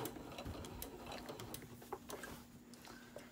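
A sewing machine runs steadily while stitching the seam of a multi-layered kitchen hot pad, a soft continuous whirring hum with faint ticking, quiet and close, without talk.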